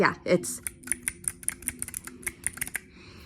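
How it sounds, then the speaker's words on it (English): Rapid clacking keystrokes on a mechanical keyboard, a quick irregular run of crisp clicks close to the listener, then silence. "there's something very soothing about the sound of clacking keys on a keyboard"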